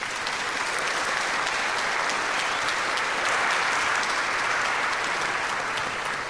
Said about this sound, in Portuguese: Eu gostaria de pedir a todos uma salva de palmas.